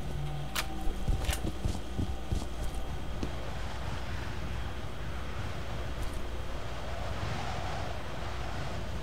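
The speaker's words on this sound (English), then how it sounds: "Oh, that's supposed to be wind I'm hearing." Wind blowing in the video game F.E.A.R., a steady, hollow rushing that fills the background at a constant level, broken early by a couple of sharp knocks and thuds.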